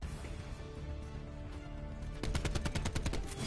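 Rapid automatic gunfire in the Call of Duty Black Ops 4 beta, a quick burst of shots in the second half over constant dense game noise.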